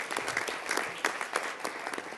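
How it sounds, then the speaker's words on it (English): Applause from a press conference audience for Baltimore Mayor Stephanie Rawlings-Blake, a brief burst of many hands clapping in a steady, crackling patter at moderate distance, with no voices over it. "so let's give her another round of applause."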